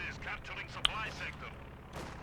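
A rifle grenade goes off in Company of Heroes 2 as a single short, sharp blast, close and brief, over a steady battle rumble while a voice talks.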